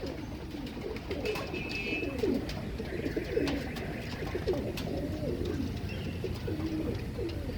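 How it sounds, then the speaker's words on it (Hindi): Pigeons coo repeatedly in soft, throaty phrases, steady and fairly close, with faint background noise and occasional chirps. "ये 8वां कबूतर दोस्तों।"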